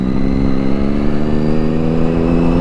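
A car passes by on the road with a loud, steady engine drone and a low rumbling hum that holds evenly throughout, with no voices.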